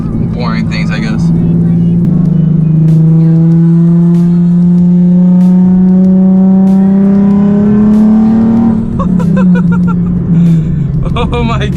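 A Nissan 370Z is driven hard through corners, its engine note holding loud and climbing steadily in pitch through a long pull, and a voice talks over it.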